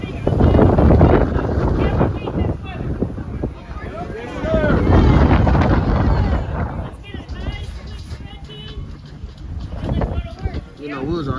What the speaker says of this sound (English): It's hella windy.